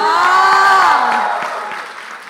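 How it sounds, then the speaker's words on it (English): Audience applause welcoming a guest speaker onto the stage at a convention, a steady wash of clapping and crowd noise under a loud sustained voice that fades over about two seconds. "Can we please do a huge round?"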